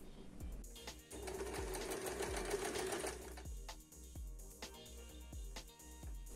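A semi-automatic sewing machine stitches a bar tack at the end of a buttonhole. It runs in a steady rapid hum, loud and close, then eases into slower separate needle strokes toward the end.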